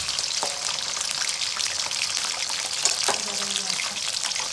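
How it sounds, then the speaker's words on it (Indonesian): Squid sizzling and frying in a pan without seasoning, a steady, close hiss of hot oil with occasional faint clinks and pops, and no voices. "digoreng biasa aja, ini nggak pakai bumbu ya."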